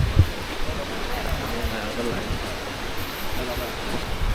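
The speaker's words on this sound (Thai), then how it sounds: "คนเราเห็นน้ำตกเราเจอน้ำตกแล้ว" A waterfall in Nan province with blue-tinted rocks pours in a steady, broad rushing hiss close by, while people talk quietly beneath it.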